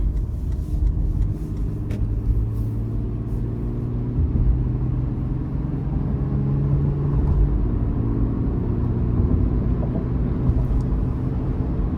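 A 2023 Toyota 4Runner SR5 with a 5-speed automatic accelerates, its engine humming steadily with rising tones as it shifts, heard as a continuous low drone from inside the cabin.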